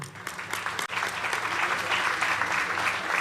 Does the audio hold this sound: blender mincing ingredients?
no